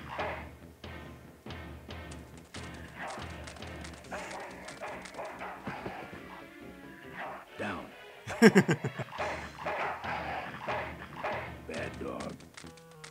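A dog in the video game Full Throttle barks in a short burst of loud thuds and yaps midway, set among game sounds and someone talking.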